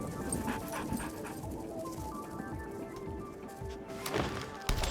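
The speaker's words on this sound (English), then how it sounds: "Cute little doggy pet." A pet dog in the card game MTG Arena pants in quick, steady rhythmic breaths, with a few soft whimpers and light clip-clop-like taps under a busy, continuous game soundscape.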